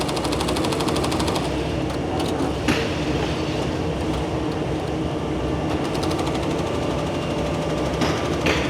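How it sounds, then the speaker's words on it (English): Programmable industrial sewing machines stitching on a factory floor that makes survival gear, giving a loud continuous rapid mechanical chatter with steady rhythm and occasional clunks from the machinery and no talking. "These are programmable sewing machines."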